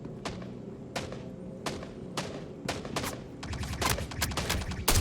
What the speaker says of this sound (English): Who the hell is dumping rounds out here?